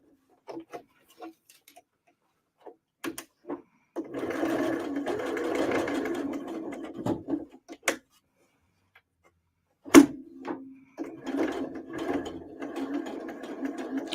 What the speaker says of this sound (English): I'm sewing at a crazy angle.